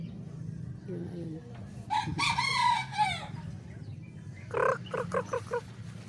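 A rooster crows loudly, then hens cluck in a quick series over a low background hum, with faint murmuring nearby.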